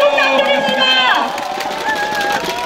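Crowd noise at an outdoor presidential campaign rally in Yeoju for a People Power Party candidate, a steady loud wash of clapping and cheering mixed with tonal music and voices throughout.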